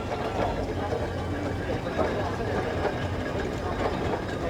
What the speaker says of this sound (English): Britannia is a 3-speed Burrell agricultural engine